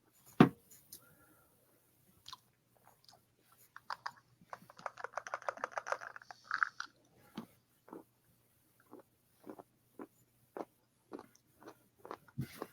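Peanuts and pretzels being chewed, a run of crunchy, wet bites close to the mic with scattered pauses between them, busiest in the middle stretch and thinning toward the end.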